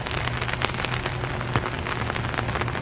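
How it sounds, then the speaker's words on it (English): Steady rain falls outdoors at a memorial grave site, a dense, even hiss of drops pattering on surfaces with a few sharper nearby splats, continuous and fairly close throughout with no talk. "Oh my God, it's raining."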